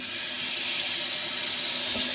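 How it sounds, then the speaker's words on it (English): Hot water runs steadily from a tap into the metal tank of an ultrasonic cleaner, a continuous close hiss and splash with no pauses and no voices. "we'll fill this with hot water this time"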